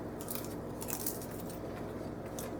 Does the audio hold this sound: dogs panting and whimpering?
no